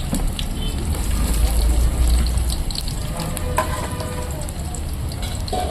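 Onions frying in sesame oil for a mutton curry, a steady loud sizzle and crackle with faint stirring scrapes throughout.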